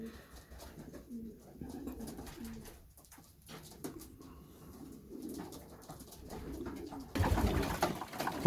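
Young pigeons coo in a loft, with soft repeated throaty calls near and far throughout and a louder flurry of rustling at the end.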